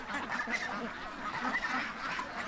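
Ducks in a pen give a steady low murmur of soft quacks and honks, continuous and moderately distant, with no clear single call standing out.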